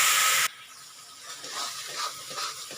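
Ground masala paste hitting hot oil in a pan for a Mutter Paneer gravy, starting with a loud burst of sizzle that quickly drops to a steady, softer hiss and crackle.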